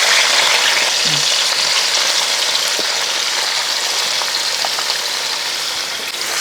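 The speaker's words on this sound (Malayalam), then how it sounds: "ഒരു രണ്ട് സവോള അരിഞ്ഞു വെച്ചിരിക്കുന്നത് ഒരു മീഡിയം സൈസ് രണ്ട് സവോള ആ സവോള ചൂടായ ശേഷം എണ്ണ ചൂടായതിന് ശേഷം അങ്ങോട്ട് ഇട്ട് കൊടുക്കുക" Two medium sliced onions frying in hot oil for prawn biryani, a loud, close, continuous hiss with a faint tick or two, steady throughout and without speech.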